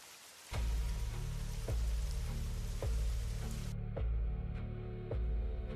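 Steady rain falls close by at the start of the rainy season, a dense continuous patter broken by regular heavier drips or knocks roughly every second.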